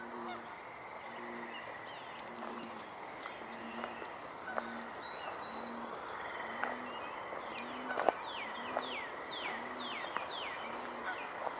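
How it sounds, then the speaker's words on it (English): A northern cardinal sings a series of clear, slurred whistled notes, clustered mostly toward the end, while low honking calls repeat steadily in the background. "Hearing a cardinal sing."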